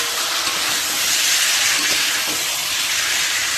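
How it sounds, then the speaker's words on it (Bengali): Potatoes fry in a pan for a cauliflower, potato and fish curry, a loud, steady hiss of oil with occasional stirring sounds, close up and uninterrupted. "তাহলে আলুটা ভাজা থেকে করি।"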